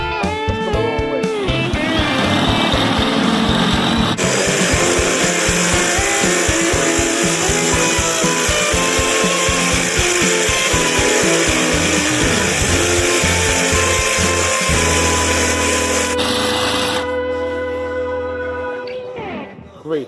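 A drill bores through spacers during work on a 2001 Camaro SS with an LS1, giving a loud, steady grinding and whirring that runs close and continuous for about twenty seconds with shifting pitch before it winds down.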